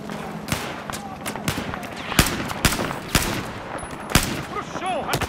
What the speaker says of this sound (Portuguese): Nossa, tá atirando em mim!